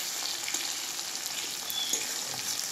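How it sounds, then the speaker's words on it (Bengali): Onions and tomatoes fry in a pan for a fat curry, a steady close sizzle with occasional stirring scrapes and no talk. "পেঁয়াজ আর টমেটো ভাজা হয়ে গেছে"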